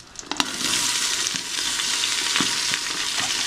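Onions sauté in hot oil for beef biryani, a loud continuous sizzle near at hand with occasional stirring taps, no talking.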